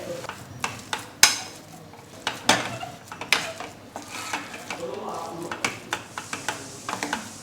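Spoon scraping and clinking against a pan while idli stuffing of potatoes, lemon juice and coriander is mixed, a run of sharp irregular taps and scrapes, fairly close, with faint background noise.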